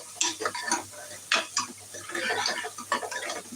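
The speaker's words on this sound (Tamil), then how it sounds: "2 பச்சை மிளகாய், வெங்காயம் சேர்த்து நல்லா வதக்கிட்டுருக்கேன்." Onions and green chillies sautéed in a pan for mutton kurma, a series of scraping spatula strokes and light metallic clinks over a faint sizzle, heard up close with no talk.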